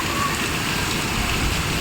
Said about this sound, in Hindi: बारिश भी बहुत तेज़ से आ रही है